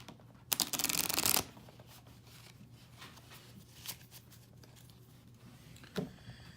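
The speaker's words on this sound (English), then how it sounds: "Go ahead and shuffle these cards up" A deck of game cards being shuffled, one quick riffle burst up close followed by quieter handling and a brief second riffle, in a quiet room.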